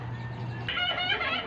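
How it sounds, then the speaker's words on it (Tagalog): A turkey gobbles in a quick warbling burst, close by, over a faint background hum. "yung alaga ng aming kapitbahay, pabo"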